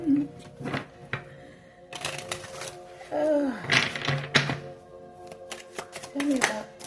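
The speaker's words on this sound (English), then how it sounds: "Let me shuffle the deck." A deck of tarot cards is shuffled in quick riffling and tapping bursts, with someone talking intermittently between and over the crisp card sounds.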